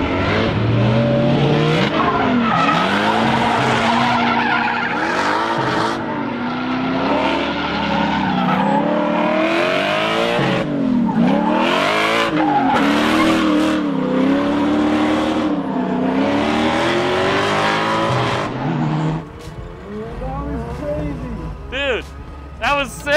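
Supercharged 1UZ V8 drift truck at a drift event, engine revving hard and rising and falling with long tire squeals and skids, loud and close, with excited talking over it and a quieter stretch near the end.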